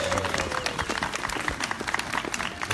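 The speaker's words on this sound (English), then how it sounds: "everybody was clapping except this man" An outdoor street theatre audience in York claps and cheers, a dense, uneven patter of many hands close by, with crowd noise mixed in.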